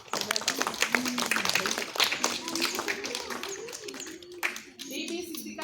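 A group of schoolchildren claps together for a classmate at a Republic Day celebration at a municipal school. The dense, rhythmic hand slaps run steadily under nearby talk and children's voices, thinning out toward the end.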